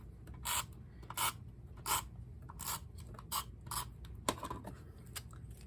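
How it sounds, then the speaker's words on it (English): A Creative Memories border maker cutter slices paper for a scrapbook border, giving a series of short, quiet rasping strokes at a fairly regular pace, close and faint. "I'm going to cut it at 1 inch, which is a little smaller than we did with the gray."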